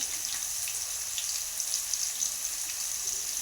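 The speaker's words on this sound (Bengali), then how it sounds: "সয়াবিনগুলো আমি এখানে চিপে নেবো, নরম হয়ে গেছে দেখো, জল থেকে ছেঁকে নেব।" Soaked soybeans being squeezed and drained of their soaking water in a kitchen, giving a steady close trickling, splashing wash of water throughout, with no speech.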